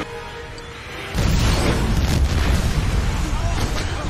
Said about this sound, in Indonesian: untungnya Joe, Polly, dan juga Kaji berhasil kabur dari ledakan tersebut